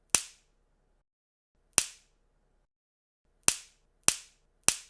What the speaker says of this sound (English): That was the sound of me breaking a stick.